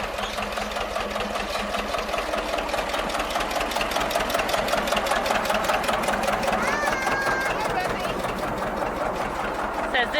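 A John Deere 428 hay elevator runs steadily, its rust-pitted chain clattering in a fast, even mechanical rhythm close by, with a faint voice briefly present under the machinery.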